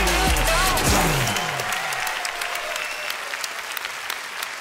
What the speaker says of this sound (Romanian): haideți cu un rând puternic de aplauze pentru Cristi